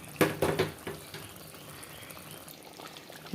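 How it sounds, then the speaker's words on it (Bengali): Warm water is poured in a short, soft splash into a pan of chicken cooking on the stove. A couple of quick sputters and sizzles follow, then a faint low simmer continues in a quiet room. "আমি এক্ষুনি জলটা দিয়ে দেবো একদম সামান্য পরিমাণে জল দিলাম"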